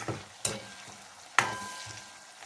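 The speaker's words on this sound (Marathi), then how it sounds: "तर कांदा वगैरे थोडंसं तळून घेऊया." Onion, garlic and tomato fry in oil in a pan for cabbage bhaji, a soft close sizzle broken by two sharp stirring clatters, no talking.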